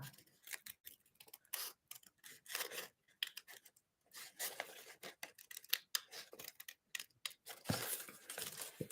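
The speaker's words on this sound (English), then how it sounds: "Cut the flower up here." Small scissors snip through paper, cutting out a snowdrop flower for a Danish gækkebrev letter: a quick run of crisp close snips and rustles, with short pauses between bursts.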